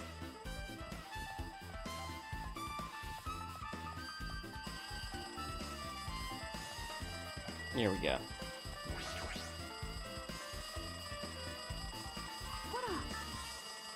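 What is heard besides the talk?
telephone ringing, from the video game Danganronpa 2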